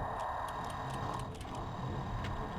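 A clock ticking in the puzzle adventure game Myst, quick regular clicks repeating over a low, dense ambient hum, with no voices.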